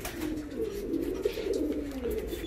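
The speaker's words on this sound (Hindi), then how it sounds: "तो भाई ये कुछ मेरे भवरे कबूतर थे" Soft, low cooing of black Malwai pigeons rolls on steadily throughout, a close, continuous murmuring call with faint background noise.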